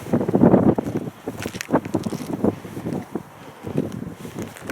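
Strong, gusty mountain wind at Kjerag, Norway, buffets the microphone in rough, rumbling surges, loud and close, with rustling and faint movement underneath on a steep climb.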